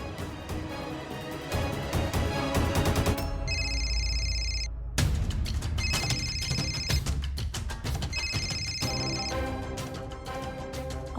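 A telephone rings with an incoming call at home in a Marathi TV serial, sounding in repeated bursts of bright electronic tones over steady background music.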